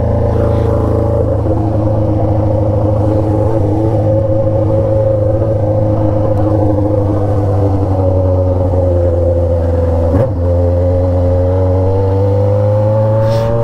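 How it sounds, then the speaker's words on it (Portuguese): Busy road traffic of cars and motorcycles in Elias Fausto, Brazil, heard as a constant loud engine rumble and drone with steady revving, close and continuous throughout. "Olha o que tem de carro e moto."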